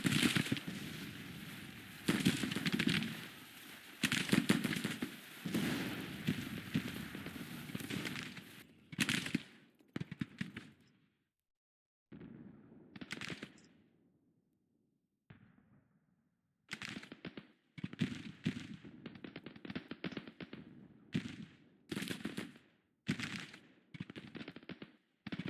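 Civil War troops exchange volleys in the Grand Tactician strategy game, with dense rolling musketry for the first several seconds, then scattered bursts and crackling fire broken by short silences, loud and close throughout.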